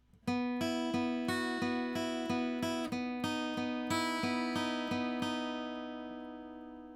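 Guitar plays a short intro section of a song, a rhythmic run of picked notes and chords struck about twice per second, close and clear, then left to ring and fade.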